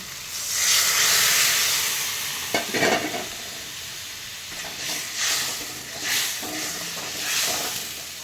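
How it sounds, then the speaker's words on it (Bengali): Hot water is poured into a pan of frying potatoes and spices for a cauliflower curry, producing a loud sizzling hiss that flares and then settles into softer bubbling with occasional stirring scrapes. "গরম জল দিয়ে দিচ্ছি।"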